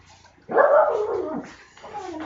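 A dog lets out a close, drawn-out whining bark that trails into a softer whimper, followed by a shorter second vocalization, with a faint low hum from an indoor turbo bike training setup underneath.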